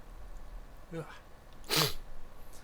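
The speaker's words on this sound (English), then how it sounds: "I think I've got a sneeze coming on" A close, sharp sneeze follows a brief intake of breath.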